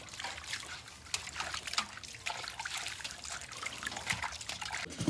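Tap water trickles and splashes steadily while a whole rabbit is rinsed under it in a home kitchen before roasting, a close, continuous running stream with no talking.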